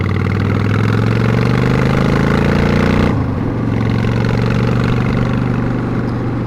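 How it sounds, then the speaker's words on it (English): A 1996 Honda Shadow Ace 1100 motorcycle engine runs with a loud, steady low rumble close by, then the tone shifts briefly partway through before it settles back into a continuous drone. "today we're doing a first ride on the 1996 Honda Shadow Ace"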